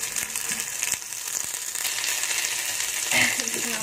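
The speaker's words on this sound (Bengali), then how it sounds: "এখানে আমি তেল একটু অল্প পরিমাণে রিফাইন অয়েল দিয়ে দিচ্ছি, বা আপনার বাটারও দিতে পারবে। টিকিটটা এর মধ্যে ভেজে নেবো" Potato tikki frying in a pan of refined oil, a steady close hiss and sizzle that runs throughout, with faint clicks and a spoon scrape near the end.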